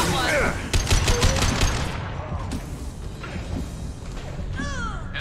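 Rapid rifle fire in Mass Effect 2, a dense burst of sharp shots in the first couple of seconds, followed by scattered single shots and battle clatter, with voices talking over it.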